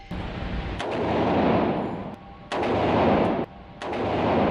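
Heavy bursts of gunfire from guns being shot, loud and close, with sustained rattling volleys broken by brief pauses, no voices.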